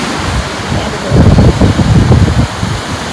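Ocean surf at La Jolla, California rolls in steadily, a broad rushing wash of waves that swells louder midway, with wind buffeting the microphone.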